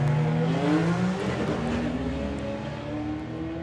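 Drag racing car at a doorslammers meet launching hard and shifting into second gear, a loud sustained engine roar with rising then dropping harmonics and a faint tyre squeal.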